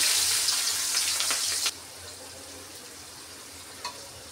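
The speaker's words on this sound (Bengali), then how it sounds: "এখন তরকারি রান্নার জন্য পেঁয়াজ আর কাঁচামরিচ দিয়ে দেব।" Chopped onions and green chilies hit hot oil in a home kitchen and give a loud, bright sizzle for about a second and a half. The sizzle then drops to a quieter, steady crackle.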